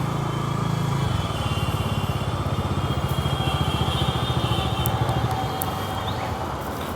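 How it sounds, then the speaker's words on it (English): Bajaj Dominar 250 motorcycle engine running with a steady pulsing exhaust throb as the rider blips the throttle while downshifting, close up and fairly even in level. "we do is we blip the throttle."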